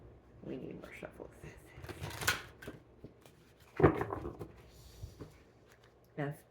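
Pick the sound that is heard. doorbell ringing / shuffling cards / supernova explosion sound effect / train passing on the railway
shuffling cards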